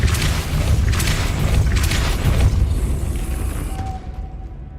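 A Depulso spell fired in the video game Hogwarts Legacy, a heavy explosive boom with sustained rumble and crackle that tails off, followed by a faint chime, heard alone.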